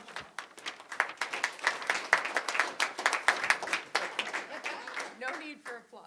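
Scattered audience applause for a special guest called forward at a school board meeting, a modest group clapping in distinct hand claps that fade as a voice begins speaking.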